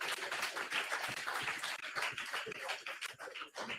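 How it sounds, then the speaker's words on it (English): An audience at a town hall meeting on hurricane recovery claps steadily in a dense, continuous round of applause that holds at moderate level with a few brief dips. "Please give them a round of applause."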